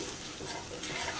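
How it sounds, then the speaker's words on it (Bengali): Rice being fried and stirred in a pan gives a steady, close sizzle with scraping, continuous and fairly loud, with no talk over it. "ভালো করে একটু ভেজে নিব।"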